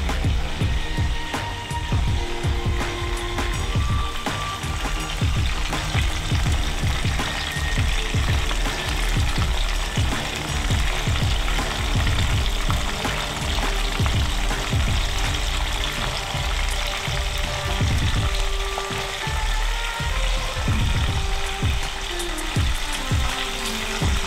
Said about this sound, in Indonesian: Karena aku di sini adanya ikan ini, jadi aku goreng ikan ini ya.